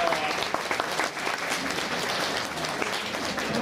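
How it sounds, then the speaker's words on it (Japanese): Audience at the Turtle Talk show in Tokyo DisneySea applauding steadily, a dense crowd of clapping hands heard fairly close and sustained throughout. "みんな拍手だ。"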